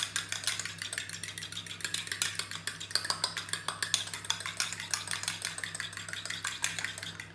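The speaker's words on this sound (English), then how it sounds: "I'm going to whisk up my egg a little bit, just to make it easier to stir in" An egg is whisked briskly with a fork in a bowl for marble cake batter, giving a fast, even run of light metallic clicks and taps over a low, constant background hum.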